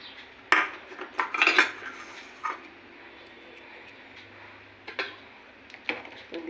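A spoon stirs gurer payesh, a jaggery mixture with patali and date-palm jaggery, in a pot: a few sharp clinks and scrapes against the pot, quiet between the taps.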